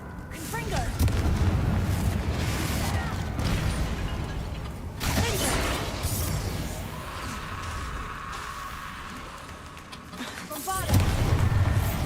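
Confringo blasting spells fired in the Hogwarts Legacy video game, producing a string of loud, booming explosive bursts with crackling debris over a continuous rumbling battle din, with a louder blast near the end.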